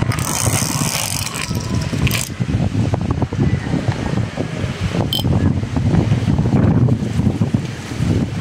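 Gusty wind buffets an outdoor microphone by the water with a boat nearby, a steady low rumble that swells and roars throughout, with faint higher splashes mixed in.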